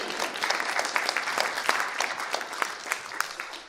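Steady applause from a comedy variety show audience, a continuous dense patter of many hands clapping for several seconds at moderate volume.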